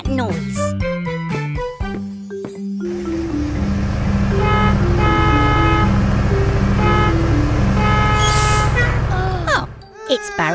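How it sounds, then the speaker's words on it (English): A cartoon bus in a hurry toots its horn amid playful jingly music, with a sustained tonal honk running through the middle and voices talking at the start and end. "It's Barry the bus. Looks like he's in a rush."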